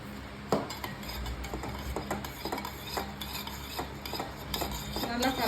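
A spoon stirs sugar into a rasmalai mixture for a cake, scraping and clinking against the bowl in short, uneven strokes, close up with quiet background and no talking.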